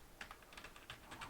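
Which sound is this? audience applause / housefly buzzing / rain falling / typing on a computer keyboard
typing on a computer keyboard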